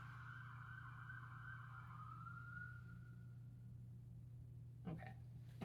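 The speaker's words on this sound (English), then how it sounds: "there's sirens going on" A siren wails in the background, its tone sliding slowly downward over a steady low hum, with a couple of brief knocks near the end.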